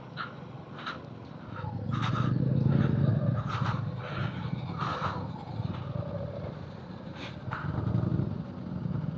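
Motorcycle stuck on a rough, broken mountain trail between Pangong and Hanle, its engine revving and straining in long low surges, with scattered scrapes and knocks from the wheels on rock.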